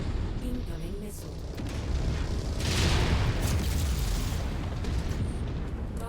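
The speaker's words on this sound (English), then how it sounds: "Incoming missile." Missile explosions in the MechWarrior 5 video game make a dense, continuous rumble of booms with no distinct separate blasts, loud and close throughout.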